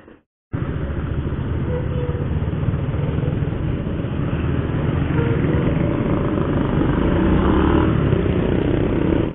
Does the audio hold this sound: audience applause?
no